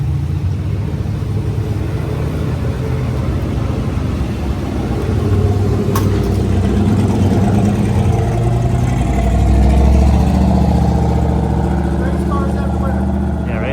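Race car engines at a road rally event, a loud continuous low rumble of several idling and lightly revving motors close by, building slightly in the second half, with voices talking over it.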